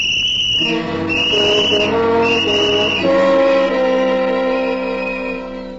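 A child blows a tin whistle in several sustained, shrill tones with short breaks between them, loud and close, ending on a longer held note that fades slightly.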